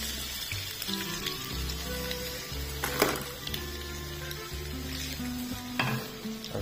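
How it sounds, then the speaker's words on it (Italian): Blue crab meat frying with garlic in a pan, a steady crackling sizzle with stirring and scraping, close and continuous, with a low hum beneath and no talk. "mettiamo dentro tutta la nostra polpa di granchio"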